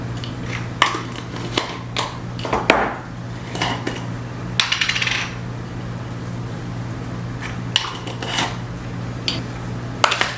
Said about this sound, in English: Okay, so I'm just going to stir these around.